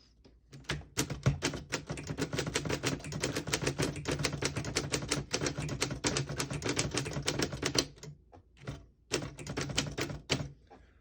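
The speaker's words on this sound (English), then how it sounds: "I'll type a sentence in red on the next line" Rapid clacking keystrokes on a 1933 Underwood four-bank portable typewriter, a steady fast stream of sharp mechanical taps with a few brief pauses near the end.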